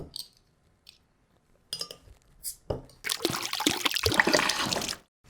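Beer poured fast into a glass, a rushing, foamy splash that swells for about two seconds after a few short clinks and taps.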